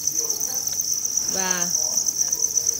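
Crickets at a cricket farm keep up a steady, high, continuous chirring throughout, while someone briefly speaks over it.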